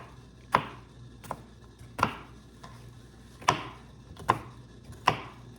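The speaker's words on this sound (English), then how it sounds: "I'm gonna put this in the hamburger mixture because waste not, want not. I mean, that's a lot of pepper you can be using into the mix. So I'm gonna cut this up." A knife chopping bell pepper tops on a cutting board: six sharp, evenly spaced chops about a second apart, close and distinct over a quiet background.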